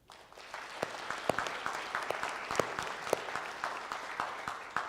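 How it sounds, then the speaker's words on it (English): An audience at a rural electric cooperative's annual members' meeting applauds, with a steady round of scattered claps building briefly and holding at a moderate level. "can we give a quick round of applause to all the directors and employees who helped make this event flow smoothly"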